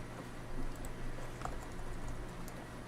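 Soft, irregular clicks of typing on a computer keyboard during a Minecraft ATM 10 modpack session, faint and steady over a low background hum for about three seconds.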